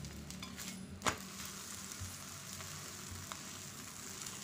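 Corn flour thalipeeth roasting on an oiled pan, a soft, quiet continuous sizzle broken by one sharp clack about a second in.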